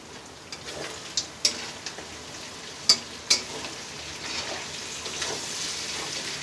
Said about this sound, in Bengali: পেঁয়াজটা অনেকটা ভাজা ভাজা হয়ে এসছে। এবার দিয়ে দেবো কাঁচা লঙ্কা।